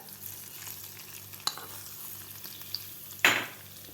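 Warm tadka is poured over a white onion salad, giving a faint soft sizzle with a couple of sharp utensil clinks and one louder splash-hiss near the end.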